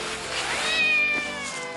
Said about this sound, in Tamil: அது நம்ம பூனைக்குட்டி தான்.